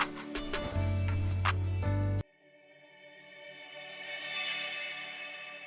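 A short burst of layered, bright vocal sample cuts off into a washy, echoing swell that rises and lingers, heavy with reverb and chorus shimmer.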